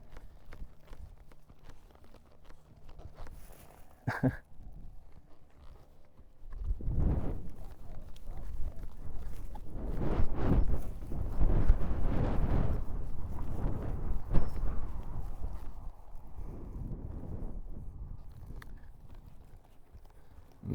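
Cinnamon the horse works a flag, her hooves thudding and scuffing on soft ground in uneven clusters through a turn and stop. The sound is close, rising in the middle, with faint creaks.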